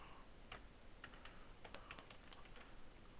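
Keys clatter on a computer keyboard while a name is entered into a form in CorelDraw's print merge tool, a quick irregular run of light clicks over a faint room hiss.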